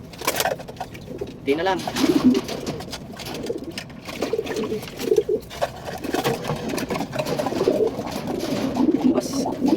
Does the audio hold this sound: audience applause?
no